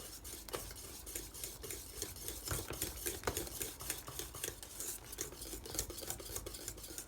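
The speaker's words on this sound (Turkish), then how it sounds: "Şimdi içerisine bir yemek kaşığı tereyağı ve bir paket vanilya ekleyip hızlıca karıştıracağım." A spoon rapidly stirs hot Turkish milk pudding (muhallebi) in a pot just after butter and vanilla are added, giving a steady run of quick scraping clinks against the pan, close and continuous with no talk.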